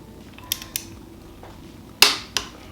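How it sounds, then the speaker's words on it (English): Torque wrench tightening the crank bolt on a 289 small-block Ford during a timing chain install, a few sharp isolated clicks and creaks with one louder snap near the end, close and alone. "we're going to go ahead and torque it down once again to 40 to 45 foot-pounds"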